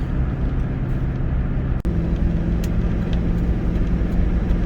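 Car on the Highway 401 westbound on-ramp, a steady broadband road and engine drone heard from inside, continuous and even, with a single brief click midway.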